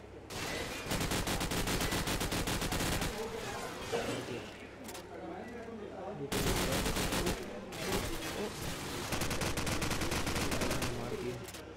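Rapid automatic gunfire in Call of Duty 4 during a Promod tournament match, with dense bursts of shots in two long volleys separated by a short lull and mixed with sharper blasts, loud and close, while players talk over it.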